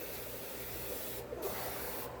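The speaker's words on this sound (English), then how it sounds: "a lot of times I'll just spray this all over" Aerosol cleaner hisses from a can onto a workbench in one continuous, fairly quiet spray with brief dips.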